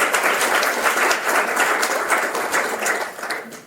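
Audience applause at an evening lecture, a dense, steady round of clapping from a crowd that carries on throughout and begins to fade near the end.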